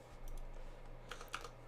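Soft keystrokes on a computer keyboard, a few faint clicks clustered near the end over a steady low hum, with no one talking.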